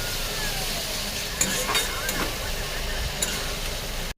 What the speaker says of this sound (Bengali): মশলাটাকে ভালো করে কষাবো